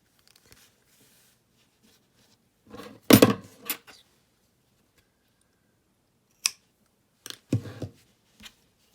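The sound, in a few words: cutting crochet yarn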